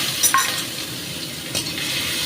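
Chopped garlic and ginger frying in oil in a pan over lowered gas, a soft steady sizzle with a couple of brief stirring clatters near the start and middle.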